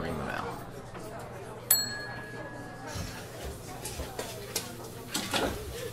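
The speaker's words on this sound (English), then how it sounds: "Ring the bell." A bell rings once in the video game Contradiction, a single bright ding that fades over about a second, heard fairly quietly amid soft room ambience and small thumps.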